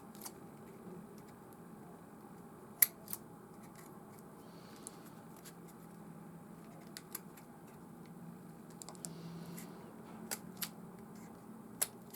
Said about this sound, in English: Need some really sharp scissors too.